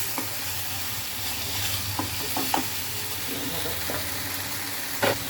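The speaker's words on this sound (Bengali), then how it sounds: "এবার মশলার মধ্যে চিকেনটা অনেকক্ষণ ভালো করে কষিয়ে নিতে হবে" Chicken frying in spice masala in a pan for a Bengali chuijhal chicken dish, with a steady sizzle and a few scattered clinks and scrapes of stirring close by.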